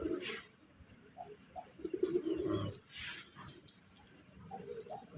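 Native pigeons cooing at a pigeon farm, with several soft low coos and a few chirps over about five seconds, fairly close, against a quiet background.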